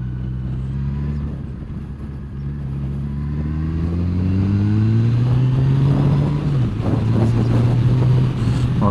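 Yamaha FJR 1300 motorcycle engine heard while riding at around 50, a steady loud drone whose pitch climbs smoothly as it accelerates, then levels off, with wind rush throughout.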